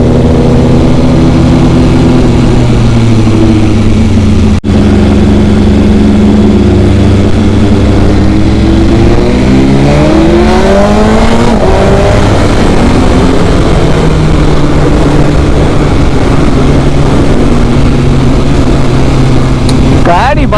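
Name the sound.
BMW S1000RR motorcycle full exhaust without dB killer, revving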